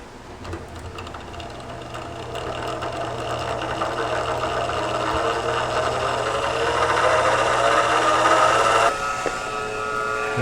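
A honey extractor is cranked, giving off a continuous whirring, rumbling spin that slowly builds in loudness and then eases slightly near the end.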